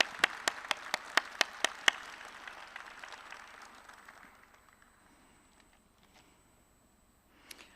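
At a pinning ceremony for surgical technology graduates, a few loud, sharp claps ring out in a quick rhythm before dispersed audience applause fades away, with a faint sound near the end.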